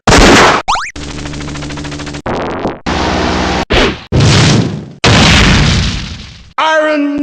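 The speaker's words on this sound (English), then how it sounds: "Heavy machine gun." Heavy machine gun from the video game Metal Slug: bursts of loud arcade gunfire separated by short gaps, ending in a rising electronic pickup jingle.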